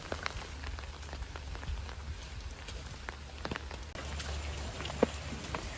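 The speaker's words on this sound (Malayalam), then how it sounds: "ഭാഗ്യത്തിന് വലിയ മഴയില്ല, ചെറിയ മഴയുള്ളൂ." Light rain falling outdoors on a flooded road, a soft continuous patter with scattered drops and a low steady rumble underneath, fairly quiet, no talking.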